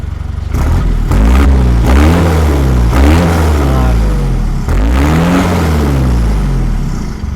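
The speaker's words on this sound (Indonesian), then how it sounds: "suara diesel tuh kalau udah diganti muffler tuh, garing banget, enak gitu, renyah gitu" A loud Isuzu D-Max 3.0 diesel pickup engine with a replaced muffler revs up and down several times, each rev rising and falling in pitch, with a deep throaty rumble throughout.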